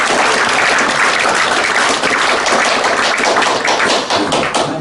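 An audience at a computing talk claps steadily and loudly for several seconds, a dense continuous patter of many hands with no voices over it.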